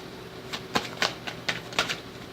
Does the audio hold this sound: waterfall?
no